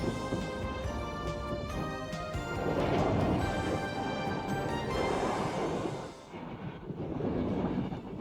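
A BLS train on the Swiss line to Brig, loud continuous rumble of wheels on rails with rattling carriages and a bright metallic ringing, the roar dipping briefly before building again.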